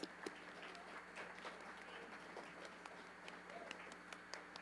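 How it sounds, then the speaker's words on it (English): A crowd at a cosplay contest gives a round of applause, scattered claps over a murmuring room, fairly faint and distant, with voices talking underneath. "Let's give her a big round of applause"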